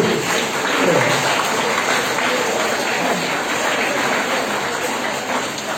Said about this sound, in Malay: Sila beri tepukan gemuruh kepada guru-guru.